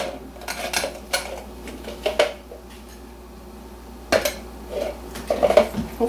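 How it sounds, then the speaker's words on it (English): Dried lavender buds and flowers sifted into a smaller bowl, with soft scraping, rustling and light clinks of a metal sieve against the bowl, coming in short uneven bursts at close range. "I'm going to sift it again into a smaller bowl"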